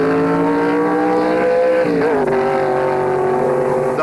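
Drag racing cars at the 1963 NHRA Nationals, a loud, steady engine roar with strong harmonic drone and a pitch shift midway as a car pulls away, continuous without pauses.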